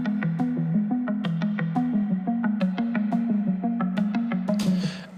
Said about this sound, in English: it's called space arp. It's one of the standard instruments in Ableton.